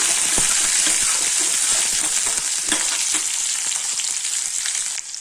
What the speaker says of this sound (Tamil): வெங்காயம் வதங்கிடுச்சுங்க